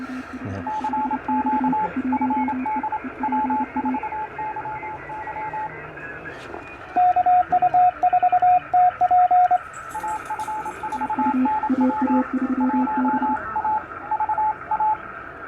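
A faint amateur radio signal on the 15-meter band, received by a low-power QRP station at Field Day, comes and goes through hiss, with bursts of keyed tones and a voice that fades in and out of the static.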